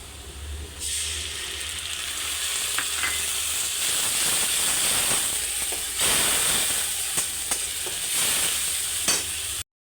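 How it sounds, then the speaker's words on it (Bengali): Onions and ginger-garlic paste fry in hot oil for a duck egg curry, giving a steady, loud sizzle with repeated scraping stirs of a spoon in the pan throughout, with no talking. "পেঁয়াজটা লাল করে ভাজা হয়ে গেলে এবার ওতে আদা রসুন পেস্টটা দিয়ে দেবেন"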